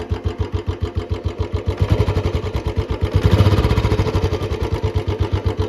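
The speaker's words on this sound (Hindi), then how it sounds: "खैर पहले आप इंजन की साउंड सुनो।" A Royal Enfield Bullet 350 with a short bottle silencer and C-bend pipe idles at low revs, a steady chugging pulse of evenly spaced beats, close and fairly loud, swelling slightly in the middle before settling.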